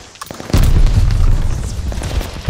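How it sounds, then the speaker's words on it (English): A grenade explodes in Call of Duty: Vanguard multiplayer, a single loud low boom that sets off a sustained rumbling roar, with scattered gunfire crackling around it. "Throwing grenade."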